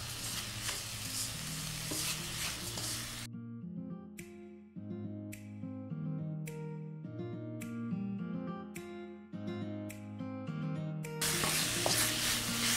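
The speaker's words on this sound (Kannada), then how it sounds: "ಸಕ್ಕರೆ ಮತ್ತು ಹಾಲು ಹಾಕಿದ್ಮೇಲೆ ಉರಿನ ಸಿಮ್ಮಲ್ಲೇ ಇಟ್ಕೊಂಡು ಚೆನ್ನಾಗಿ ತಿರುಗಿಸ್ಕೋಬೇಕು" Grated coconut with sugar and milk is stirred in a pan over a low flame for coconut laddu, a steady scraping stir with a soft sizzle, joined midway by melodic background tones.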